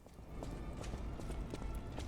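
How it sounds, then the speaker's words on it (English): Footsteps of a character walking around in the video game Lies of P fall in a steady, quiet, evenly paced rhythm over a low ambient hum. "You can hear my footsteps"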